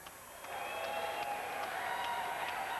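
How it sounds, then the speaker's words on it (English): Audience at a fighting event breaking into sustained applause, a dense wash of clapping that swells after a moment and holds steady, heard from within the crowd. "How about a big warm round of applause for yourselves"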